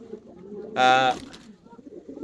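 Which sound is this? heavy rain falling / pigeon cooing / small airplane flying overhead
pigeon cooing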